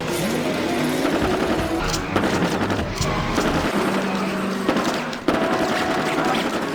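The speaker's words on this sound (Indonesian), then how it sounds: "tentara tim kedua mendekat dari belakang menggunakan mobil sambil menembaki Jason terus-menerus" Rapid bursts of gunfire from soldiers in an approaching car crackle continuously, loud and close, with occasional heavier booms over a steady rumble of background noise.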